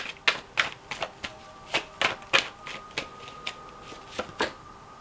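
Tarot cards shuffled and drawn from the deck at a reading, a quick run of about a dozen crisp, close riffling flicks at an uneven rhythm, with no talking.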